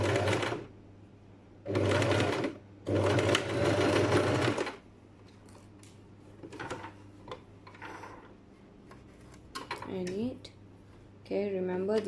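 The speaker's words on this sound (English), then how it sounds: "Okay, now I'm gonna put it under the sewing machine." A sewing machine sews a 1 cm seam allowance with reverse stitching on an accordion pocket, running in three short loud bursts of rapid whirring, with a teacher speaking to a class in the quieter gaps afterward.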